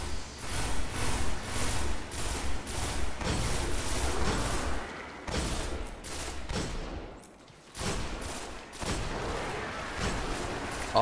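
Rapid bursts of gunfire from the Destiny: The Taken King video game, a pistol firing in quick repeated shots amid loud battle noise, with brief pauses between volleys and no talking.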